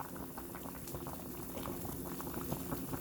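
Pot of green beans with ham hock and pig feet simmering on the stove over medium heat, a steady bubbling boil with soft liquid gurgles, close and continuous, no voices.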